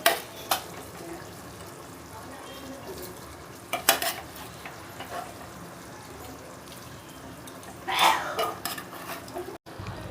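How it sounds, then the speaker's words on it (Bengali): Sautéed vegetables are stirred into spice masala in a wok: quiet, low scraping and stirring with a few sharper utensil knocks against the pan, and a soft background hiss. No talking. "এবার সব সবজিগুলো সাতলানো সব সবজিগুলো মশলার মধ্যে এবার দিয়ে দেবো"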